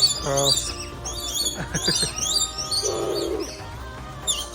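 Lorikeets at a zoo bird feeding area, a busy chorus of shrill chirps and squawks up close, with a rasping screech partway through.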